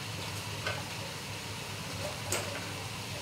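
Pumpkin flower fritters frying in a pan of oil, a soft, even bubbling sizzle throughout with one or two faint clinks.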